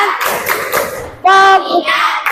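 A class of children claps in the rhythmic 'tepuk fokus' game: brief bursts of group clapping mixed with the teacher and children chanting, close and fairly loud.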